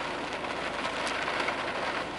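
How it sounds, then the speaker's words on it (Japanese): Heavy typhoon rain pours down in a steady, dense hiss that fills the whole clip, loud and close with no pauses and no talking. "雨の雑音が入っているかもしれませんが"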